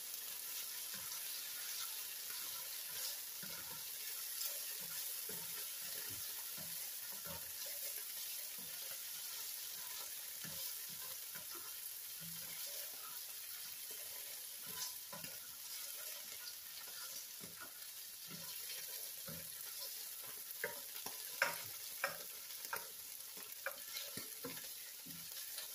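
Chicken a la king mixture warms in a skillet with a faint, steady sizzle and soft intermittent stirring taps and scrapes, heard alone without talking.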